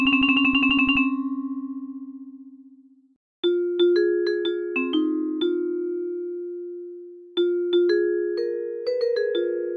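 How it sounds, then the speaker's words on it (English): A jazzy vibraphone sample plays alone: a fast run of struck notes, a long ringing decay, then two separate phrases of mallet-struck chords and notes with shimmering sustain. "jazzy vibraphone"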